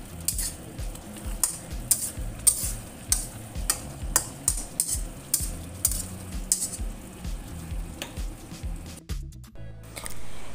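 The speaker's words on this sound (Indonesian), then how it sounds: "tumis yang baru kita buat kita pindahkan ke piring saji seperti ini" Metal utensil scraping and clinking against a pan as a sweet, sour and spicy shrimp and vegetable stir-fry is moved onto a serving plate, with rhythmic scooping taps and a soft sizzle underneath.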